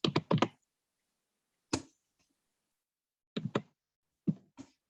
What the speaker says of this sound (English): Sound like somebody's typing while you're talking.